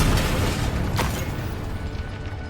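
A Bombarda blasting spell exploding in Hogwarts Legacy, a loud, heavy, rumbling blast with a sharp burst near the middle and continuous low-end roar throughout.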